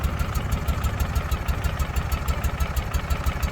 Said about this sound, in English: listen to this bike idle right now